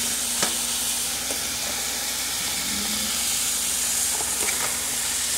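Hot fried rice with soy sauce stirred in a pan: a steady, loud sizzle and hiss throughout, with a few faint utensil clicks against the pan.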